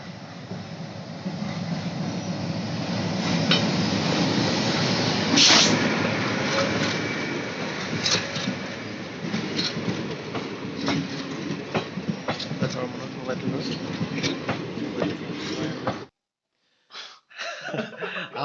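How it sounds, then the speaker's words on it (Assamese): A train pulls into Baruah Bamun Gaon railway station. A loud, continuous rumble with rhythmic wheel clatter and metallic clicks builds close by, then cuts out sharply near the end. "ট্ৰেইন আহিব এতিয়া।"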